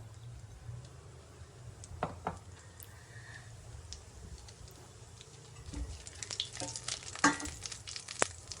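Whole spices, cinnamon, black cardamom, cloves and cumin seeds, sauté in a pan at the start of a capsicum rice dish, giving a soft steady sizzle with scattered light pops and stirring clatter that grows busier toward the end.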